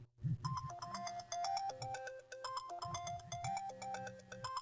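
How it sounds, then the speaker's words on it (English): A phone ringtone goes off in a smoky room with burning wood, a bright repeating electronic melody looping steadily for several seconds, fairly close and alone without talk. "I hear a phone go off, coming from the guy melting on the floor."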